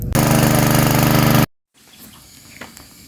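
Motor driving a water pump that draws water from a spring to a farm plot, a loud steady rhythmic engine drone for about a second and a half that cuts off abruptly, followed by faint outdoor ambience.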